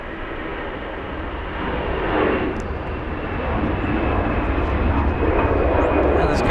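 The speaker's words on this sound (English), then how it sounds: "The 777 next up to land" A Boeing 777 jet landing at Los Angeles International Airport, a steady broad engine roar that swells gradually as it nears, with faint voices underneath.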